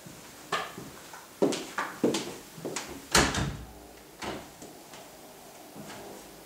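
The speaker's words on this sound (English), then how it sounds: "The door." A series of knocks, clunks and bumps sound as an indoor door is handled, irregular thuds scattered across several seconds, moderately close with a faint room background.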